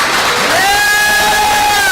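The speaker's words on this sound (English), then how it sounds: "help me please offer a lusty, humongous round of applause" An audience at a public meeting cheers loudly, a dense crowd roar with a sustained high whistle or shout rising above it, close and continuous throughout.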